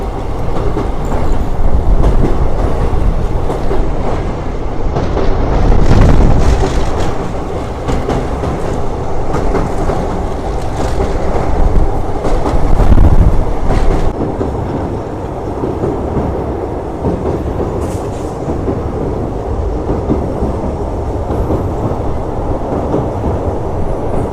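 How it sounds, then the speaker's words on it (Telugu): A train rumbles steadily across the Pamban sea bridge between Rameswaram and Mandapam, with a rhythmic clatter and loud, continuous roar, heard from inside or close by. "సముద్రం పైన మన ట్రైన్ జర్నీ."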